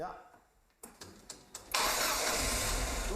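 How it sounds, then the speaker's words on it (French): A rally car engine cranks with a few sputtering turns after five months unused, then catches and roars into a loud, steady idle close by. Someone speaks briefly beforehand. "On met les pinces, on la démarre"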